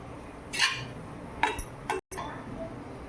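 Poli chivda stirred and mixed in a pan, with a few sharp clinks and scrapes of a utensil against the metal spaced out over a soft, steady background.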